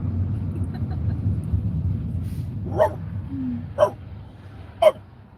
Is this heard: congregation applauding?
no